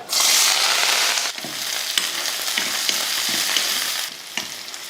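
Mustard seeds, onion, green chilli and curry leaves fry in hot oil for a Tamil vegetarian lunch, giving a loud, steady sizzle that surges at first, then settles into crackling with scattered sharp pops and stirring clicks, with no talking.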